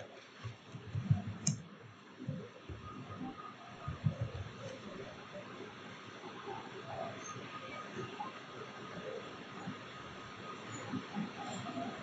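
Quiet clicks of typing on a computer keyboard, scattered irregular taps clustered early on and then trailing off into sparse, faint keystrokes against a low background hum.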